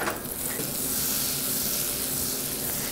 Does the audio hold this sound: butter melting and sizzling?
yes